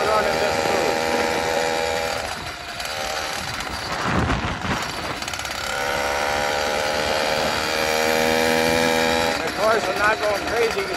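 F-Zero A301 two-stroke engine on a motorized bicycle running up close, a loud buzzing drone that dips briefly and then climbs back to a steady rev, with a voice talking over it.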